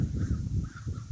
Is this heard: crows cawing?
yes